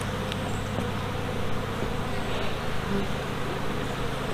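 A steady swarm drone of honeybees rises from an open hive under inspection, a thick, even buzz held close and unbroken throughout.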